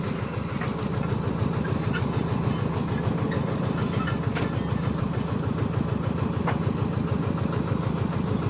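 A well-drilling rig truck brought from Thailand runs at a drilling site in Laos, its engine holding a steady rhythmic chugging drone with faint clanks over the top.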